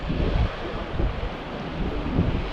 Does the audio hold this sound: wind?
yes